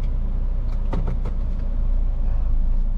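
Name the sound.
Toyota Veloz Q CVT car driving casually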